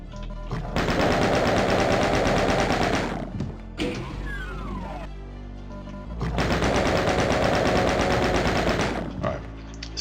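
Chain gun fire in DOOM: two long sustained bursts of rapid automatic shots, loud and close, separated by a brief lull with other game noises.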